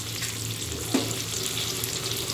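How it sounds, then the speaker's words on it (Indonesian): Sliced spices sautéing in a hot pan give off a steady, even sizzle throughout, with one brief clink partway through. "tumis semua bumbu yang sudah diiris"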